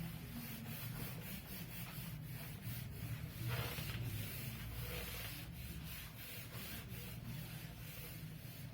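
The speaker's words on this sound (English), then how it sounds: "I'm rubbing these three now." Writing on a classroom board being rubbed out, with a steady, continuous scrubbing and rasping sound in quick repeated strokes, fairly close and with no talk over it.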